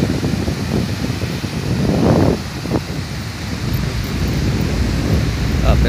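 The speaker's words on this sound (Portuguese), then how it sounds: "Olha o barulho do mar." Sea surf breaking on a beach with strong wind buffeting the microphone, a steady roar with a swell of louder wash midway, while people talk nearby.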